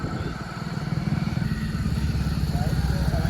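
A motorbike engine drones close by with a steady, slightly pulsing rumble that grows a little louder, with other traffic noise mixed in.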